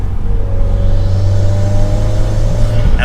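A 2021 Subaru WRX Premium on a test drive, its engine droning steadily under load from inside the cabin, a deep constant rumble with a faint rising whine as revs build, loud and unbroken with no talking.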